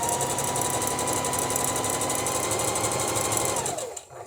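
A sewing machine stitches shapes in a beginner sewing lesson, a loud, continuous, close buzzing rattle that runs steadily and then winds down and stops at the end.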